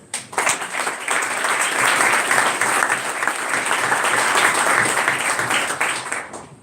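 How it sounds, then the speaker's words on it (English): An audience at an emerging manager meeting gives a big round of applause for Vida, sustained crowd clapping that starts abruptly and stays full and steady for several seconds. "So big round of applause for Vida."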